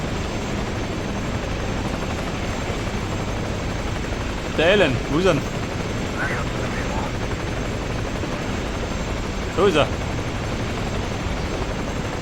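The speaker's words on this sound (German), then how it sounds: "Helikopter, Abflug." A helicopter's steady, loud rotor and engine roar fills the scene as it takes off in the video game Ghost Recon Advanced Warfighter, with a few short German-speaking voices breaking in over the drone.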